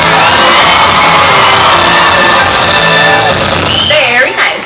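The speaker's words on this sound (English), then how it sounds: "Let's hear a practice cheer for Team Tyson" Audience at an animal actor stage show giving a practice cheer, a loud sustained crowd roar of cheering, whooping and shouting that tails off near the end.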